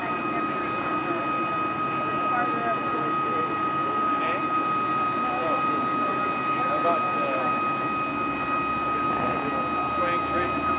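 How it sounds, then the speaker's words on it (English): Boeing CH-47D Chinook tandem-rotor helicopter shutting down at an air museum, a steady turbine whine with tonal hums and a low rotor drone fading, heard at a moderate distance with people talking over it. "The rest is just them shutting everything down and the rotors coming to a full and complete stop."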